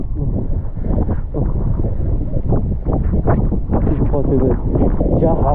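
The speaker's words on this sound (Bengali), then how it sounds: "যা হাওয়া দিচ্ছে" Strong wind blows hard across a microphone beside the sea on a rainy motorcycle road trip from London to Scotland, making a constant low roar beneath a person speaking.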